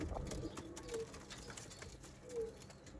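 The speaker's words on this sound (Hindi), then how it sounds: "ये देखें जी दोस्तों ब्रांड सियालकोटी कबूतर कैसे होते हैं," Sialkoti pigeons on a rooftop give soft low coos, two brief murmurs standing out against a dim, noisy backdrop, faint and somewhat distant.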